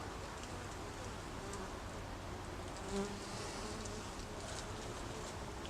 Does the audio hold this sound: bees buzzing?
yes